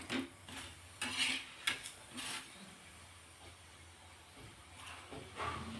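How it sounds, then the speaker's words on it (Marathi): A coriander-stem paratha roasts on a pan with oil brushed on, giving a faint, steady hiss broken by short bursts of scraping and clinking from a utensil against the pan, with no speech. "खमंग होईपर्यंत पराठा भाजून घ्यायचा आहे आणि इथे मी असं छान तेल लावून घेत आहे"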